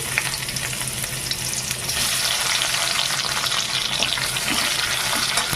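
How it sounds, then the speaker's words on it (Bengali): Chopped onion frying in fresh oil in a kadai after fish was fried, a dense continuous crackling sizzle that grows a little louder partway through, close and steady with no talk. "এবার কড়াই আর একটু তেল দিয়ে দিয়ে দেবো বড় একটা পেঁয়াজ কুচি"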